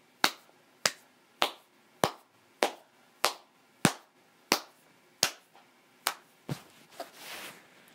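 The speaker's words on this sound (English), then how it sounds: "Let's give a round of applause, everybody." One person claps slowly and evenly, about a dozen sharp, close claps in steady rhythm, with the last few turning softer and scrappier.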